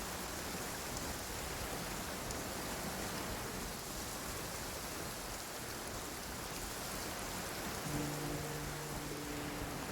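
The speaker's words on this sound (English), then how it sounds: "It's raining again?" Steady rain pours down in the video game Genshin Impact, a dense, even hiss of falling water that continues unbroken, loud and close, with no voices over it.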